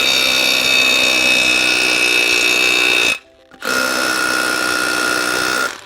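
Milwaukee power drill boring holes with no dust extraction attached, a loud, steady high-pitched whine running nearly six seconds, with one brief pause near the middle before it spins up again.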